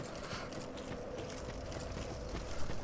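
Pigs trotting in the video game Dark Souls 2, a steady, dense patter of hoof-like clopping that runs continuously at moderate level, with no talking.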